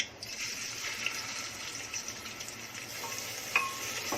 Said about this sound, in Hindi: अपना घी गरम हो गया, अब इसमें प्याज डाल रही हूँ।